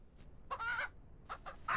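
Chicken clucking in the farming video game Ranch Simulator: a few short bursts of hen clucks, one around the middle and a cluster near the end, fairly close and moderately loud with no talk over them.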